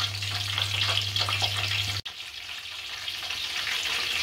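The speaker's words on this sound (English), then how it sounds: "mushrooms in my frying pot. And as you can see, they're frying away" Mushroom pakoras deep fry in a pot of hot oil, giving a steady crackling sizzle with a low hum over the first half that cuts out at a brief break, while the frying continues unchanged and no one speaks.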